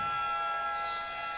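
End-of-half siren at a youth handball game in an indoor arena, a loud steady electronic wail sustained throughout with no break, sounding alone without talk.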